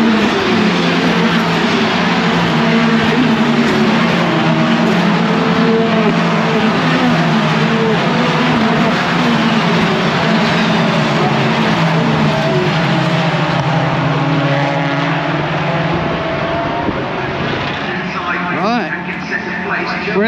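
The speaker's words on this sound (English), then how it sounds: "Right, here they come round for the second lap." Touring race cars roar past on a wet Brands Hatch circuit, a loud sustained engine drone with layered revving tones and spray noise running throughout, shifting slightly as the cars pass.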